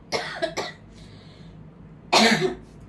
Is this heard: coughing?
yes